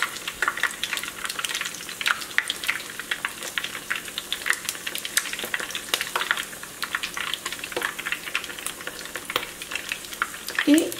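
Shrimp patties frying in oil, a crackling, popping sizzle with many sharp spits and bursts, close and continuous, with a faint tap near the end.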